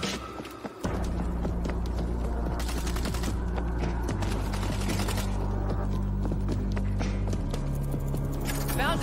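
Rapid, sustained bursts of a placed machine gun in the video game World War Z Aftermath, loud and dense over droning game music and battle noise, with voices in the game talking.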